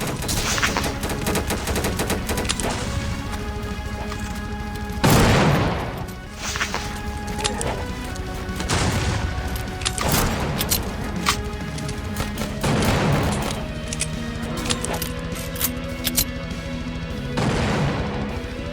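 Sticky grenades explode repeatedly in the zombie game The Undead Coming, several loud booming blasts spaced a few seconds apart over continuous dense gunfire and game music.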